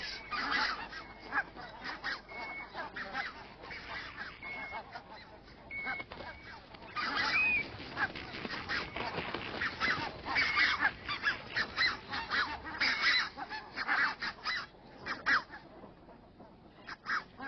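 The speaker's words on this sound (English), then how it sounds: "Among them are rare red-breasted geese." A large flock of red-breasted geese honking continuously on the Russian Arctic tundra, many overlapping calls near and far, a busy, noisy chorus with no talking.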